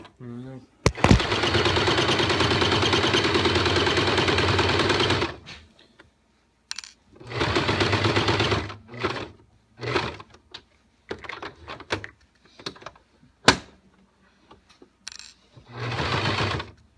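A sewing machine stitches an apron in a home-school co-op sewing class: one long steady run of stitching, then several shorter bursts separated by pauses, with people talking in the gaps.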